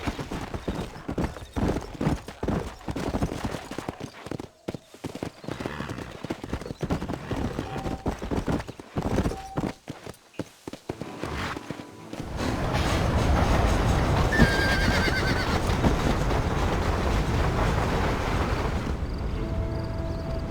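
In the video game Red Dead Redemption, hooves clop in a steady rhythm, then a horse-drawn wagon rolls with continuous rumbling and creaking; a horse whinnies briefly partway through.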